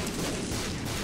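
Booming explosions in The Binding of Isaac Afterbirth, a dense, loud rumble of overlapping blasts filling the short moment without a break.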